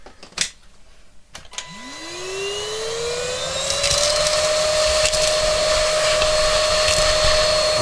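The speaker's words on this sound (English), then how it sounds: "let's first vacuum clean everything in this area." A vacuum cleaner runs in the grinder area of a KRUPS EA89 coffee machine. After a few handling knocks, the motor whines up from a low pitch to a steady, loud, high drone that holds to the end.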